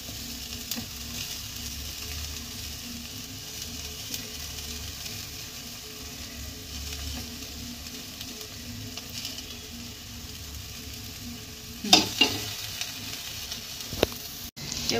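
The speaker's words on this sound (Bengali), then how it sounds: "এবার দেখুন আলুটা ভালোভাবে মশলার সঙ্গে আমি মাখিয়ে নিয়েছি" Boiled, smashed potato gets stirred into a spiced masala in a hot pan, giving a soft steady sizzle with a few scraping stir strokes and louder clatter near the end.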